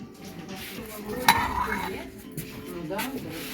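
Plates, dishes and cutlery clinking as they are handled on shelves in a housewares shop, a few close chinks and rattles over steady store background with a voice talking.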